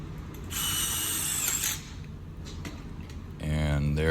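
A power drill drives screws into a round duct hanger held with a vise grip, giving two short whirring bursts with a quieter pause between.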